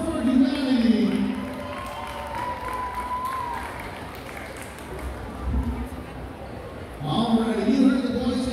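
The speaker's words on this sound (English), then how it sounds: "Round of applause one more time," Crowd applause and light cheering at the Micronesia Mall anniversary celebration in Guam. Voices carry over the start, then a sustained patter of clapping fills the middle before talk returns near the end.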